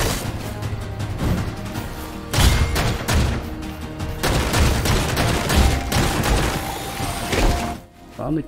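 Rapid bursts of gunfire crackle through the video game Foregone, coming in dense, loud volleys with brief thumps and impacts, pausing briefly before resuming and tapering off near the end.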